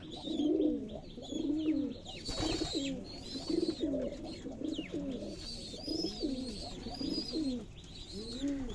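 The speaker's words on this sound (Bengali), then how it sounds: "গিরিবাস তো ডাকের পাগলা অনেক ডাকাডাকি করে" Giribaz pigeons coo again and again in a steady rolling rhythm at a pigeon farm in Sonamasjid, Rajshahi, loud and close, with faint higher chirps from other birds behind them.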